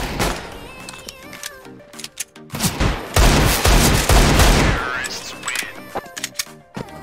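Loud bursts of gunfire in the shooter game CS:GO, with scattered single shots at first, then a dense rapid volley in the middle, followed by a few more isolated shots.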